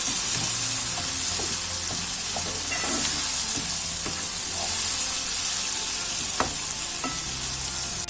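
Vermicelli and tomatoes sizzle in a frying pan while being stirred for a Turkish chicken Ankara tava, a steady hiss of frying broken by scrapes and clinks of the spoon against the pan.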